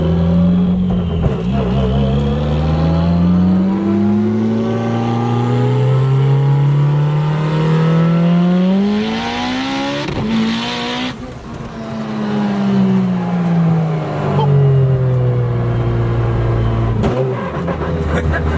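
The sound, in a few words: 898 whp Mitsubishi Evo 8 car accelerating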